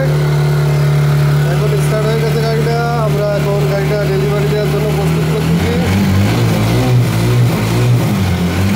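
A TVS Stryker motorcycle engine, freshly rebuilt with new piston rings, piston and timing chain, idles steadily and close by with a slightly uneven note that shifts lower partway through, while someone talks over it.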